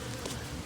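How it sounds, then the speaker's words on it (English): A dense, steady hum of buzzing honey bees, a swarm droning continuously around a gazebo with no pauses or voices. "I was seeing some bees swirling on the palm tree"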